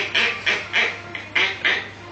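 A person imitates a duck, giving six short nasal quacks in a loose rhythm, close and fairly loud with brief gaps between each call.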